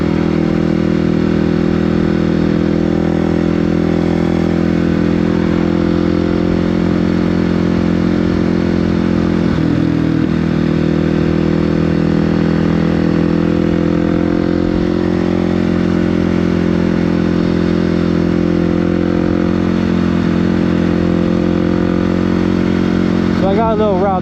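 Motorcycle ridden by a first-time beginner, its engine a loud, steady drone heard from the rider's seat throughout, with a brief dip in the middle and a voice talking over it.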